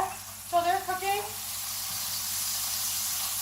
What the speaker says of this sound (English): You can hear the sizzle, which is really, really nice.